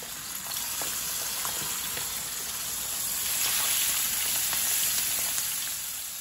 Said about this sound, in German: So, die Leber habe ich zum Anbraten in meine Pfanne gegeben.